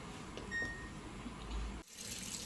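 Water runs into an LG washing machine during an AI Wash cycle, a soft steady gush with faint electronic beeps, broken by a short drop before the flow resumes.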